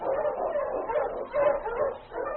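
Several huskies pulling a sled bark and yip together in an excited, continuous chorus, with a few louder bursts standing out in the middle.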